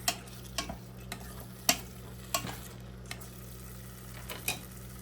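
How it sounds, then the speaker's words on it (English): Ramen noodles for pancit being stirred in a hot pan, with scraping clinks of the utensil at uneven intervals over a steady low frying sizzle, close and moderately quiet, no talking. "So I'm just giving it a stir, and then it smells so good"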